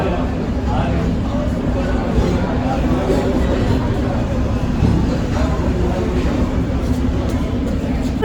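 A Darjeeling toy train pulls into a station platform, a steady loud rumble filling the scene with crowd babble and voices mixed in throughout.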